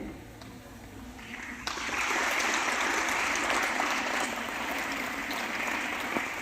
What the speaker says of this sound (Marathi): जोरदार टाळ्यांचा कडकडाट पुन्हा एकदा